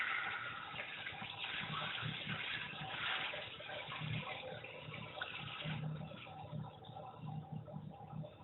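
Steady rush of tap water pouring into a container for home brewing a Christmas porter, a continuous moderate gush with no talking.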